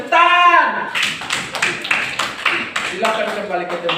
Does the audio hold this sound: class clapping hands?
yes